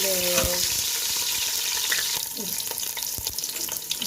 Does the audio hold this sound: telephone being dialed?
no